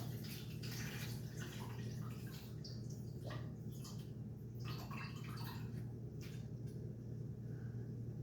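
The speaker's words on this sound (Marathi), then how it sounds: "आता हे पाणी काढून घ्यायचं" Water splashes and trickles as it is poured off overnight-soaked mung beans, a soft continuous wet rushing over a low steady hum.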